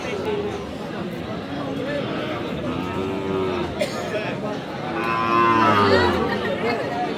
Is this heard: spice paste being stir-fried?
no